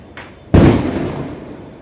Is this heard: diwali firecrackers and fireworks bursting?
yes